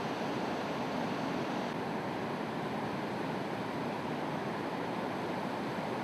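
A waterfall on a remote river in Guyana rushes in a dense, constant roar of falling water, broad and unvarying, heard from nearby with no voices.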